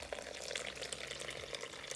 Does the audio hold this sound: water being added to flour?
yes